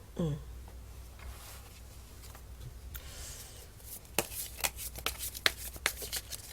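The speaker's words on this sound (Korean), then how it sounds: "추억 카드 한번 뽑아볼까요?" Tarot cards are shuffled softly at first, then drawn and laid down one after another in a run of crisp, close snaps and flicks near the end. No one speaks.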